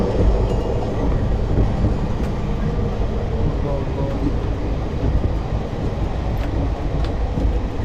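A Tirupati to Vasco Da Gama express train runs steadily past Kadapa, its low continuous rumble and rattle filling the space close by, with faint background voices now and then.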